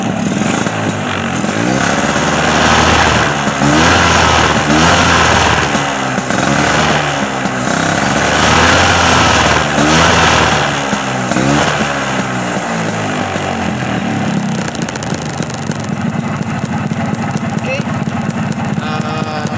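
A Vespa Strada scooter engine warms up and revs, its close, loud putter rising and falling in rhythmic surges before settling into a steadier idle.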